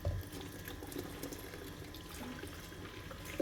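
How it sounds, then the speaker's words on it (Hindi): Roughly two glasses of water poured into a cooking pot for aloo gosht, a steady splashing rush that runs continuously without speech. "दोस्तों, इसमें हम ऐड करेंगे तकरीबन 2 गिलास पानी"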